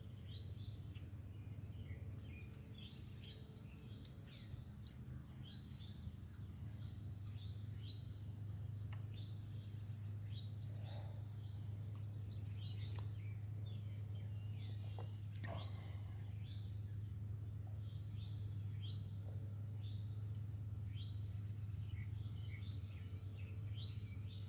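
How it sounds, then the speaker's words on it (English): Repeated short bright chirps and whistled calls from a cardinal ring out faintly over a steady low outdoor hum, coming in quick bursts throughout. "It's a cardinal."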